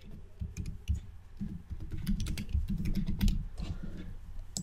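Steady typing on a computer keyboard, close and clear, with rapid irregular key clicks that run continuously and have no talking over them.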